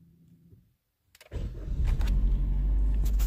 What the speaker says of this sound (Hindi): तो दोस्तों अब कार को स्टार्ट कर लेते हैं